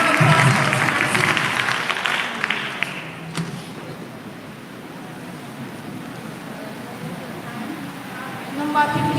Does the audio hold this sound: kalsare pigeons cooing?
no